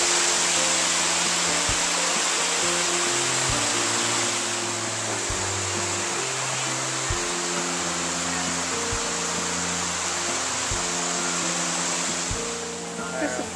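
A waterfall at the Pacifico pavilion rushes with a steady, loud, broadband roar, joined by low droning tones that shift every second or so.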